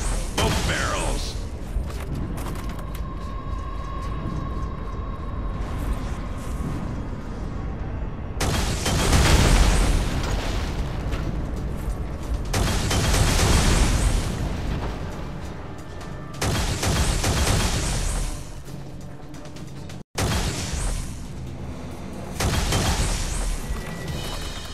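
Heavy bombing explosions in the sci-fi shooter Alien Rage, deep rumbling booms and crashes rolling continuously through a loud battle soundscape, with several sharp swells and a brief cut near the end.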